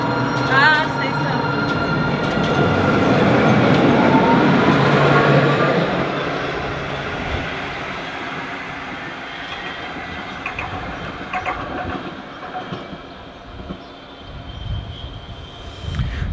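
A train rumbles along the rails with a loud steady roar that gradually eases, wheels clicking and squealing faintly, while voices murmur nearby.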